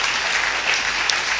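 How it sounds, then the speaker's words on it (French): A church congregation applauds steadily throughout a morning service, a dense wash of many hands clapping with no voices standing out. "Et le peuple de Dieu applaudit ce matin cette déclaration."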